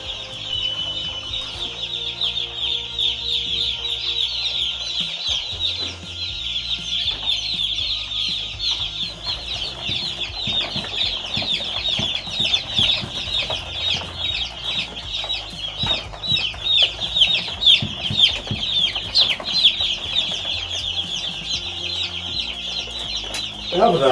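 One-day-old broiler chicks peep continuously as a dense, high chorus, close and steady throughout with scattered knocks and shuffling underneath, and no talk.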